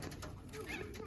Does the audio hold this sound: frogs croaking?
no